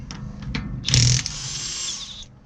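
Socket tool working lug nuts off a car wheel during a rebuild, with a short burst of ratcheting followed by a sustained high whirring spin, close and moderately loud.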